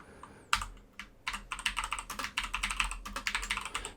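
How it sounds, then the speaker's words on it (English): Rapid clacking keystrokes on a loud computer keyboard, close and dry, a burst of irregular fast taps after a few isolated presses, with no talk over it. "Sorry, keyboard's quite loud, I know"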